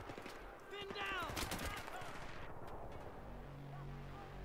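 Gunfire in the shooter Battlefield 3, a mix of scattered shots and automatic bursts under shouted voices and battle noise, fairly faint overall with a busier stretch early on.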